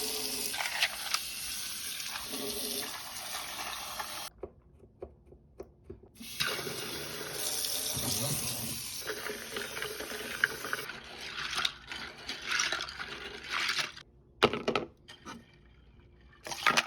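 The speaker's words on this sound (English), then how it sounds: "Next, I got to work washing the keys off with some soap and water." Soapy computer keyboard keys being washed under running tap water, a steady splashing and hissing stream with brief pauses and clatter of plastic keys, close and fairly loud, no talk.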